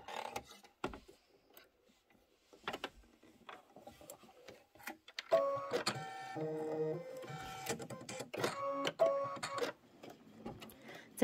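An embroidery machine stitches a tack-down line on background fabric for a quilt block, first with scattered clicks and then a run of fast rhythmic mechanical stitching with a whirring hum, close up and with no talking.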